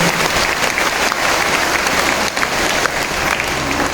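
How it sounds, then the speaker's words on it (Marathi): Dense, loud clapping from a large audience at a Ladki Bahin honour gathering in Sangola, sustained steadily throughout with a few louder swells and no clear speech. "एकदा त्यांच्यासाठी जोरदार टाळ्या आपण वाजवल्या पाहिजे"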